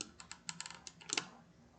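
Brisk clicking of keys on a computer keyboard, about a dozen quick, close, irregular taps over under two seconds, with no voices.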